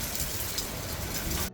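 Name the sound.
rain falling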